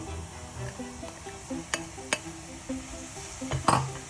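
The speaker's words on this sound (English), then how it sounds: "I'm going to put that in, put the onions and the green chili in as well" Onions and green chili tipped into a pot of frozen spinach: soft clinks of a utensil against metal and a few sharp knocks over a quiet cooking background, fairly faint.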